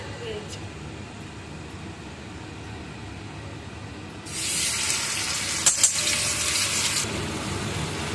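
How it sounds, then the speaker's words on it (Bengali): Spice paste frying with chicken and potatoes in a pan, a sizzle that swells up loudly midway and holds steady, with a brief clatter, while people talk nearby. "মশলাটাকে এবারে কষিয়ে নেওয়া হবে যতক্ষণ না কাঁচা গন্ধ চলে যায়"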